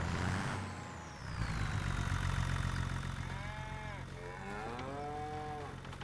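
Cattle in a pen in Farming Simulator 25 give several drawn-out moos at mid distance, heard over a steady engine rumble from a farm vehicle.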